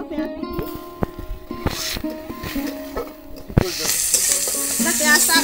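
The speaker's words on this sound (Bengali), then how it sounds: "এবার এর মধ্যে দিয়ে দেবো পেঁয়াজ কুচি" Chopped onions dropped into hot oil already holding sugar, cumin seeds and dried red chillies, a spatula knocking against the pan in sharp taps before the sizzle swells loud and steady.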